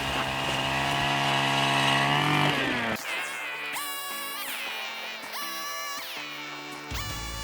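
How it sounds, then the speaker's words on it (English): Gas-powered ice auger starting up and boring holes through about four inches of lake ice, a loud steady engine drone that shifts pitch and revs in bursts as the bit cuts, close by with no talking. "So we're gonna fire up the auger here."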